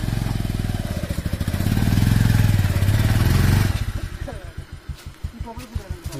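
A motorcycle labours along a flood-damaged, rain-ruined village road in a landslide area, its engine loud and close, first droning steadily and then dropping to an uneven, chugging pulse.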